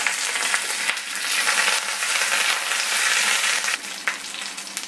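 Curry leaves and sliced green chilies sizzle and crackle in hot oil for a paneer curry, a steady close hiss with brief pops throughout and no talking.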